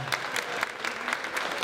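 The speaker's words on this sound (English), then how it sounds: "Give them a round of applause" Audience applause at an outdoor veterans banner picnic and medal ceremony honoring local youth, a sustained crowd of clapping hands with a few individual sharp claps standing out over the continuous patter.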